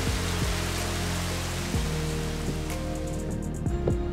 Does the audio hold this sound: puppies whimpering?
no